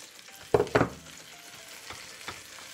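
Onion added to a hot pan for a Mexican pork rib dish: two sharp sizzling bursts followed by softer, lingering frying with faint stirring.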